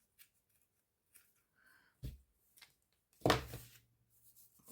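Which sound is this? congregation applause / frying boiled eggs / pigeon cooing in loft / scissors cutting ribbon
scissors cutting ribbon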